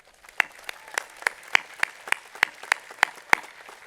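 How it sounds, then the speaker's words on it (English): An audience at a college commencement ceremony claps for supporters in a slow, evenly spaced rhythm of about a dozen sharp claps, close and distinct over a faint room hum. "I think we should give them a big round of applause"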